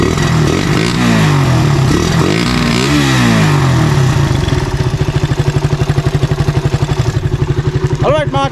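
A Suzuki Raider 150 motorcycle with a 28mm carburetor revs loudly up and down, then settles into a fast, even idle pulse, with a brief rising blip near the end.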